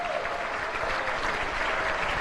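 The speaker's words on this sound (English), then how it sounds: "How about a quick round of applause for all of our winners this evening?" An awards-evening audience gives a quick, even round of applause for the winners, heard at a moderate distance as a dense wash of clapping with no speech over it.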